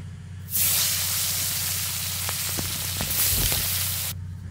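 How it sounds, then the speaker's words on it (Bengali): Koi fish fry in hot oil for tel koi, a loud close sizzle that starts abruptly, crackles steadily with small pops for about three and a half seconds, then cuts off. "আর একইভাবে আমি বাকি মাছগুলোকেও ভেজে নেব"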